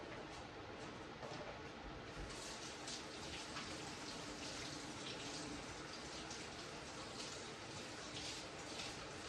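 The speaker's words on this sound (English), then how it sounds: "Let me wash my hands and I'll be right back." Running tap water pours steadily while hands are washed in a kitchen sink, a continuous broadband splash and gush that stays fairly even for the whole stretch, close by and moderately loud.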